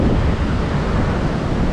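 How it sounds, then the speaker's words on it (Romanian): Strong wind buffets the microphone on a wild Phuket beach, a loud continuous roar with surf mixed underneath and no voices. "Foarte mare vânt."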